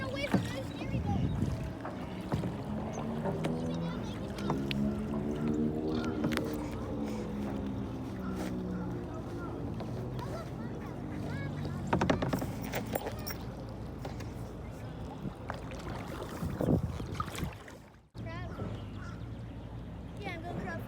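Kayak paddles dip and splash through blue open water near old boats, the strokes soft and close, mixed with people chatting and calling out throughout.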